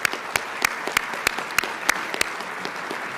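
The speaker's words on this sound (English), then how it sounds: "So let's give Tom a round of applause." Applause at an annual conference awards lunch honoring the president of the US Chamber of Commerce: a thin patter of clapping from a modest crowd, punctuated by sharp, regularly spaced loud claps close by.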